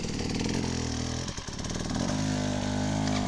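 An enduro dirt bike rides through an obstacle with its engine buzzing loud and close, briefly dipping as the rider compresses before the revs climb again and hold.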